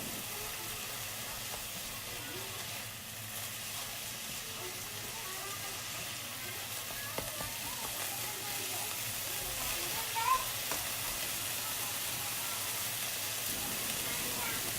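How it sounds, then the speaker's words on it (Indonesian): Chicken and spring onion sizzle steadily in a frying pan as they are stirred, a constant bright frying hiss with faint scraping, while someone talks over it. "Kita aduk deh sampai rata."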